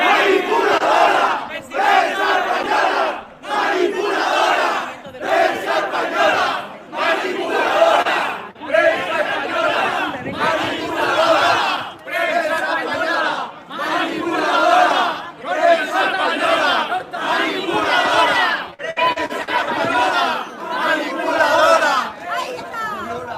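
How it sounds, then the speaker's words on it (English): Street crowd in Spain booing and chanting at a woman reporter, loud rhythmic bursts of massed shouting repeating in waves with brief gaps, close and sustained. "they just started booing her basically"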